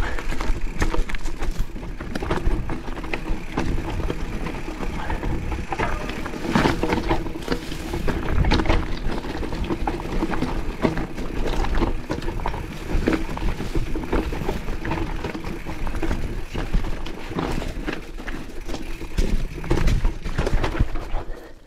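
A mountain bike clattering down a rocky descent, with constant rough rumble, rattling and sharp knocks from tyres and frame over stones, mixed with wind rush through the whole run.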